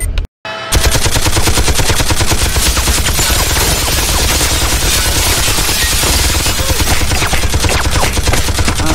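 Automated security guns fire in the Project IGI video game, rapid loud bursts of machine-gun fire in a continuous dense rattle after a brief cut at the start.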